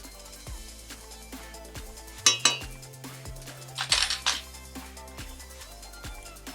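Metal utensils clink and scrape against a pot while masala and Kashmiri chili powder are stirred together for Christmas biryani, two brief louder bursts of clatter standing out over quiet kitchen background.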